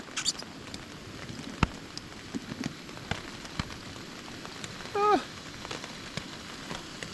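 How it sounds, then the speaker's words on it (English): Light rain pattering on a surface, a soft continuous patter with occasional louder drops and a brief squeaky noise midway. "It's raining"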